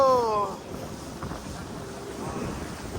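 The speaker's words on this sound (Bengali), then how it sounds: "চারিপাশে প্রচুর মানুষ তারা রাইড করছে নৌকা" Wind buffets the microphone at Port Dickson beach near Kuala Lumpur, with surf and passing boats blending into a steady, close rumble. A brief voice-like tone sounds at the very start.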